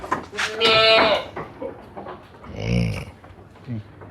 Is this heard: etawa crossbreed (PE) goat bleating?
yes